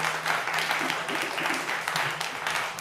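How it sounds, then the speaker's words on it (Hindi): A poetry gathering's audience applauds to welcome poet Sultan Singh Sultan, a dense, steady wash of clapping from many hands, moderately loud throughout. "एक जोरदार तालियों से सुल्तान सिंह सुल्तान का स्वागत करें।"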